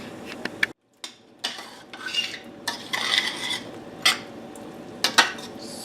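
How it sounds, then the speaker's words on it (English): A utensil stirs mushroom sauce in a pan, making irregular close scrapes and metallic clinks against a low background hiss, with no talking. "I stopped to stir the sauce around a little."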